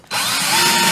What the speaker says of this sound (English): I'm going to drill those four holes out.